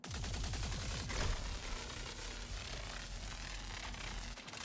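The Volt gun in Star Citizen fires continuously: a rapid, evenly spaced stream of sharp electric shots that runs unbroken for several seconds, loud and close with a crackling, buzzing edge.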